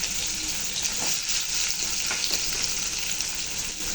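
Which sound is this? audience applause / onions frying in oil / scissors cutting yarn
onions frying in oil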